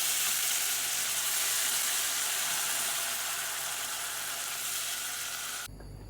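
Ground masala paste sizzles loudly in a pan with golden-brown fried onions while Tomato ka Bhurta cooks, a steady dense hiss that holds for several seconds and then drops away abruptly near the end.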